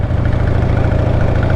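An older motorcycle engine runs steadily at close range while the bike rides over bumps, giving a loud, continuous low rumble with a slightly uneven, pulsing texture and no talking.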